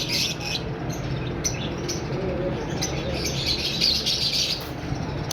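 A pair of common white pet birds at a breeder's stall in Pakistan chirp and tweet steadily and close by, a dense, continuous chatter of high calls with occasional wing flutters.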